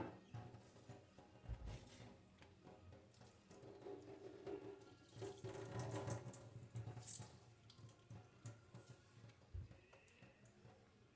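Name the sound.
water running while washing grated yam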